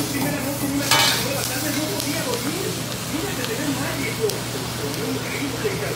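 Picudo fish and shrimp being mixed on a hot griddle, a dense continuous sizzle with scraping and stirring, one louder clatter near the start, heard close under people talking.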